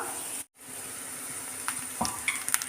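Spice powders such as garam masala fry in a pan while being stirred, giving a constant hissing sizzle broken by a brief dropout and then a few scraping clicks of the spoon.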